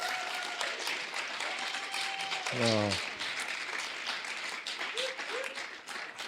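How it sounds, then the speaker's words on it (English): Church congregation applauding, steady moderately loud clapping throughout, with a brief musical tone and a short voiced exclamation partway through. "Can we give another round of applause?"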